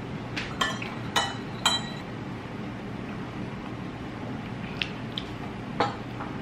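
A spoon clinking against a glass of vanilla coffee with oat milk: a few sharp, bright taps early on, then a couple more later, over a steady low background hum.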